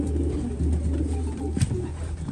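A racing pigeon coos inside a shipping crate in the early morning: soft, low, close cooing runs through the short moment, with a slightly louder coo near the end.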